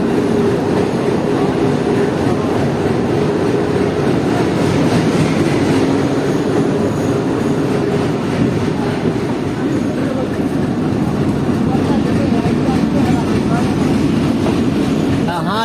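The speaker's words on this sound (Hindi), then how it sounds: "तो अपनी ट्रेन दोस्तों पहुंच रही है गोखरडीहा।" A Danapur-Jogbani Express train rolls into a station with a loud, constant low rumble of wheels and carriages that carries on throughout.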